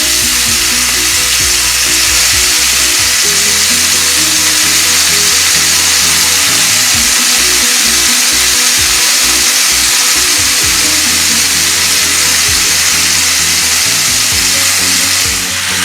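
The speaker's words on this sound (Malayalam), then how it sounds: "ഷാലോ ഫ്രൈ ചെയ്തെടുക്കാം" Prawns shallow frying in ghee in a pan, a loud steady sizzle and crackle throughout, with occasional soft stirring or turning knocks underneath.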